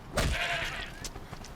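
A goat bleats in the Horizon Zero Dawn video game, one drawn-out wavering bleat close by, followed by fainter short calls, with no talk.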